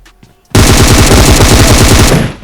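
Loud, rapid automatic gunfire from a battle royale video game bursts in after a quiet half second and rattles on continuously for nearly two seconds, close and dominant.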